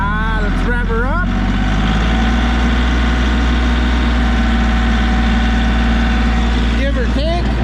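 A Kioti tractor engine runs loud and close, rising from idle to a sustained high rev with an RT2560R tiller attached, and a voice is heard briefly near the start and again at the end.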